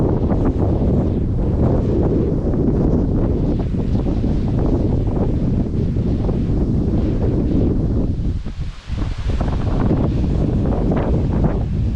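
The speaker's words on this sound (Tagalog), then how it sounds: "Magkalakas ng hangin naman." Strong wind buffets the microphone continuously, a loud rumbling roar with gusty rustling and only a brief dip near the end.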